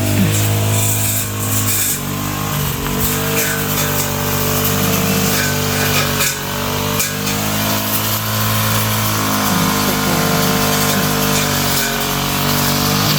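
A grass cutter whines steadily and loudly close by as it clears weeds behind a house under construction in the countryside, its motor note holding a constant drone with slight wavering.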